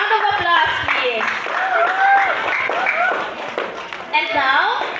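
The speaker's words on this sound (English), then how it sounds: "Let's give them a round of applause, please." Applause for Grade 2 pupils performing at a school Halloween party, mixed with children's voices and chatter, which run through most of the clip.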